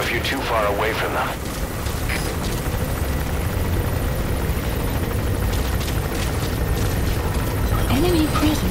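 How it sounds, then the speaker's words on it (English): Helicopter rotors thrum in a loud, constant drone over rumbling game noise, with brief chirps and a short voice cutting through. "The chopper will be arriving any minute."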